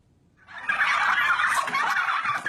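A flock of turkeys on a commercial farm breaks into a loud, rapid gobbling chorus, the overlapping warbling calls starting abruptly and continuing close by without pause.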